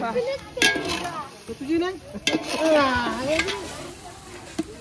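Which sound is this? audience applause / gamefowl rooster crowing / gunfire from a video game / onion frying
onion frying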